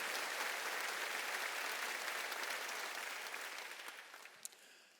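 A church congregation at a Wednesday worship service bursts into applause, dense and sustained clapping filling the room before tapering off near the end.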